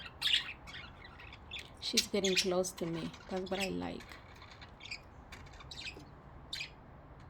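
Pet parrots chirping and squawking indoors, a quick series of sharp calls and chatter spread through the clip, with a person speaking softly between and over the bird sounds.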